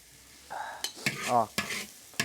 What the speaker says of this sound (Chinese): 这炒蒜蓉很简单的。 闹2下都给它铲起。